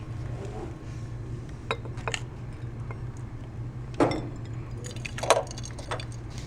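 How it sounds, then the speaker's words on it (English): A foil-covered baby food jar holding hot water is set into cold water, giving a few soft glassy clinks and knocks over a steady low hum, fairly quiet. "now we're going to put it into our cold water"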